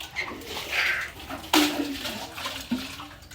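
Water splashes and sloshes as a bucket is drawn up from a well, with a couple of sharp slapping hits and gurgles amid faint outdoor background.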